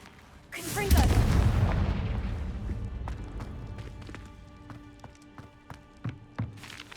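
A Confringo fire spell explosion in Hogwarts Legacy, a heavy booming blast that rolls off into a long fading rumble, followed by scattered clicks and small thuds.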